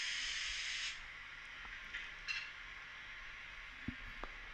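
A Fleischmann class 103 DB electric model locomotive with built-in sound gives a loud hissing air burst as it switches off, lasting under a second, then faint clicks and small ticks in near quiet.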